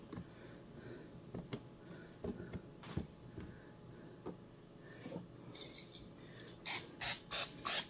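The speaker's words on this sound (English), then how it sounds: "So I'm gonna spray lightly so they kind of crisp up." Short bursts of oil spray are misted lightly over cabbage pieces for the air fryer, faint and close, several quick hisses with a louder run of spritzes at the end.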